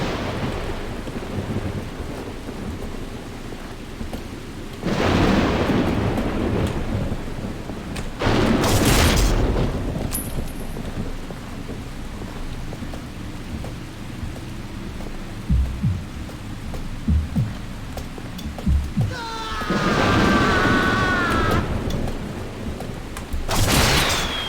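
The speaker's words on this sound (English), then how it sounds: "Fireworks." Fireworks bursting in the video game Painkiller: Resurrection, a series of loud booming explosions with crackling decay, separated by quieter stretches of rumbling, rain-like ambience.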